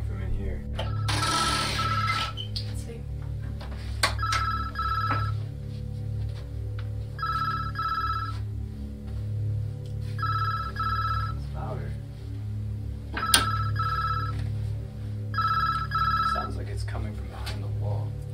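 A telephone rings in the FMV video game Deluded, sounding in repeated bursts with pauses between them over a steady low electronic background.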